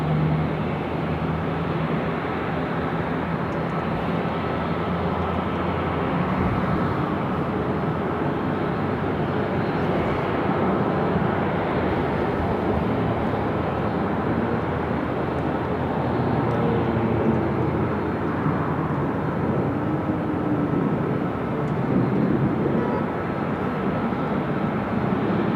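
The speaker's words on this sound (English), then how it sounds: "the Emirates A380 Super now going to cross over 24 left" An Emirates A380 airliner crosses runway 24 left at LAX, giving a steady, continuous jet engine roar at a distance that stays even throughout.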